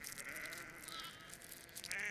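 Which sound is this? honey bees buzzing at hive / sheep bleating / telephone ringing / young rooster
sheep bleating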